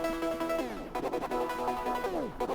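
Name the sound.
beat with EQ cutting out the lows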